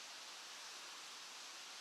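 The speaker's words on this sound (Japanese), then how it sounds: "大迫力の滝が見えてきます。" Todoroki Falls in Tokushima, a powerful waterfall, roars as a steady broadband wash of falling water, loud and unbroken throughout with no voices.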